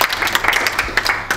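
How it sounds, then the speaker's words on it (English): An audience at a CPR training session for a high school track team breaks into a round of applause, dense overlapping claps sustained throughout at close range, with a few sharper individual hand claps standing out. "Give a good round of applause"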